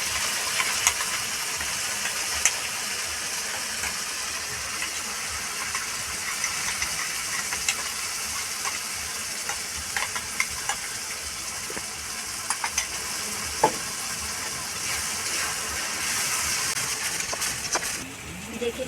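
Tomato and ginger-garlic paste fries with browned onions in a pan for palak paneer, giving a steady close sizzle and hiss with occasional small pops and stirring clicks throughout.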